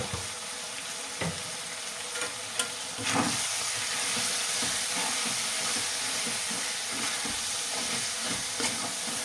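Goat tripe curry fries and sizzles steadily in hot oil with chili and masala powder, a continuous close crackling hiss broken now and then by soft stirring clatters.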